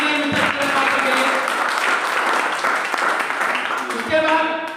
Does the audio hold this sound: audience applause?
yes